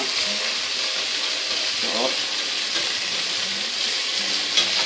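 Large chunks of pork stir-fry in a pan with soy and oyster sauce, a steady loud sizzle with occasional scraping stirs and a brief word spoken over it.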